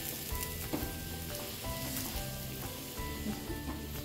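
Palak paratha brushed with ghee roasts on a griddle while being pressed down, giving a continuous close sizzle and crackle with faint scraping pulses.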